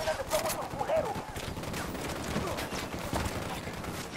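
Rapid gunfire bursts rattle through a firefight in the video game Ghost Recon Wildlands, dense and continuous under steady noise, with voices talking over the shooting.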